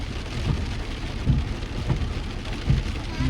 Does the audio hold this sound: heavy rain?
yes